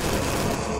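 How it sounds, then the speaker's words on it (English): Rushing water crashing onto the ground in the Xbox game Enter the Matrix, a loud, dense, continuous roar with crackling bursts filling the whole moment, no voices. "That is the sound of the water to the left hitting the ground."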